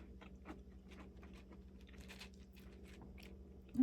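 Soft, close crunching and chewing of a potato chip topped with chili, a run of small bites and crackles at low volume.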